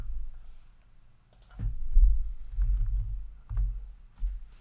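Several close, muffled mouse clicks with dull low thumps come at an uneven pace while a move is picked in a Pokémon battle game, with no voices.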